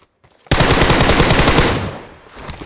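A sudden loud burst of rapid automatic gunfire in the video game PUBG Mobile lasts over a second, then fades into a decaying echo, with no talking over it.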